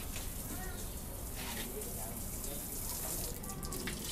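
Water spraying and splashing in uneven bursts onto a python at a mini zoo, with people talking over it nearby.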